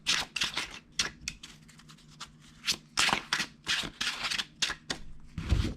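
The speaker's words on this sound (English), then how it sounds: "Shuffle some more here." Tarot cards being shuffled by hand in quick, repeated riffling bursts, close and fairly loud, with brief pauses between rounds.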